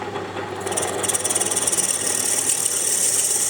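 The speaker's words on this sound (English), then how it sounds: "if I can drill and tap this, the whole thing will be a complete success." A steady, loud machine whine with a bright high-pitched grinding tone builds after a brief start, continuous as a drill bites into steel.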